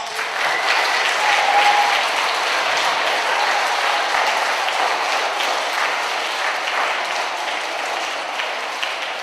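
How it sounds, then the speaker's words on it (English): School children at an elementary school assembly applaud their teachers, a dense sustained round of clapping from a large group that tapers slightly toward the end. "boys and girls, we want to give these teachers a round of applause"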